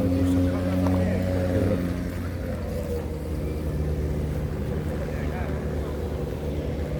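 A boat on the Mekong River near the Golden Triangle, its engine giving a steady low rumble with wind buffeting and background voices, loud and close throughout.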